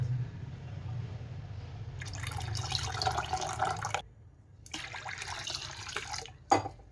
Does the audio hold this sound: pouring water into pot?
yes